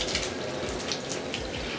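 Hot water splashing and running over a Boosted electric skateboard to rinse off salt, a steady close wash of pouring water with no talking.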